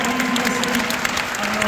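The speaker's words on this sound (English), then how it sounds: "give another round of applause" An audience at a school jazz band spring concert claps in a dense, steady burst of applause, fairly close, with a faint voice under the clapping.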